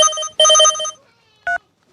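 A telephone ringtone sounds loud and close in two warbling bursts, followed after a pause by a short electronic beep.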